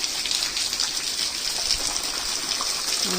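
Water gushes after a night of steady rain, a continuous broadband rush that stays loud and even throughout, with no talking.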